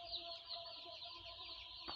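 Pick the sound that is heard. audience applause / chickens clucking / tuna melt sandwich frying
chickens clucking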